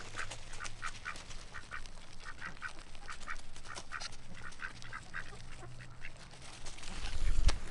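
Ducks, including a white one, quack in a rapid run of short nasal calls at moderate distance over a low hum, ending in a louder rumble, with no talk.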